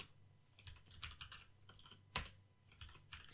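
Close, quiet clicking of keys on a computer keyboard, in short irregular bursts with one sharper keystroke, and no talk.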